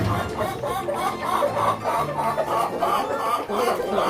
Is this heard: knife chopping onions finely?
no